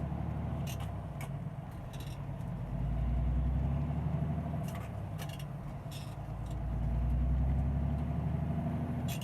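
A truck engine hauls a heavy cargo trailer of over thirty thousand pounds, a steady close rumble that swells twice as the load is pulled, with faint ticking and rattles on top and no talk.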